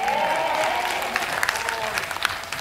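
An audience at an outdoor festival concert, the 2021 Hamyang wild ginseng anti-aging expo, applauds and cheers steadily, a dense wash of clapping with scattered shouts, fairly close and continuous.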